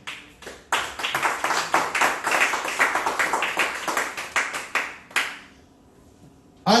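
Church congregation clapping hands for Christ during a sermon, a dense burst of many hands lasting several seconds before fading, close and loud.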